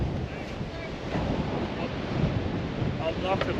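Strong coastal wind at Ngkala Rocks on K'gari (Fraser Island), Australia, a steady loud roar buffeting the microphone with surf rumbling underneath, unbroken throughout.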